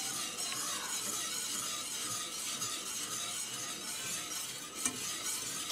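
Cornmeal porridge is stirred in a pot, giving a soft continuous scraping and bubbling hiss close by, with one faint clink near the end and no voices.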